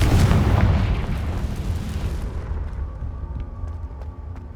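A Confringo blasting curse in Hogwarts Legacy goes off as a loud, deep explosion. The low boom rolls out and fades gradually over several seconds, with no other sound over it.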